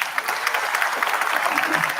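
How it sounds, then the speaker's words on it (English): Applause from the audience at the 2022 AUCA university graduation ceremony: dense, continuous clapping from a crowd, fairly distant and even in level, with no voices over it. "big applause for them."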